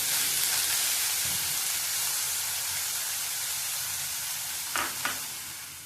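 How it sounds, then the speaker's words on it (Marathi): Grated coconut, boiled beforehand, sautéing in ghee in a hot kadhai, a continuous bright hiss and sizzle with a couple of brief scraping strokes near the end; no voices. "एक मिनिट चांगलं परतून घेऊया आधी"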